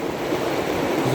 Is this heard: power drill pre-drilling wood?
no